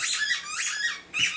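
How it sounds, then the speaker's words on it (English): Dogs squeak in three short bursts, high-pitched, thin and piercing, with no talking around them. "Ignore the dogs squeaking back there."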